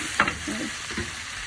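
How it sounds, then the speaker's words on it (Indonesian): Shredded tongkol fish is stirred into red chili paste in a hot pan, giving a steady close sizzle with scraping stirring strokes and no talk. "Bumbu merahnya ini kita masukin ikan tongkolnya ya guys"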